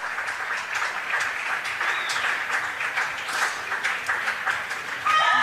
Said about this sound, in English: He's got a big applause from the audience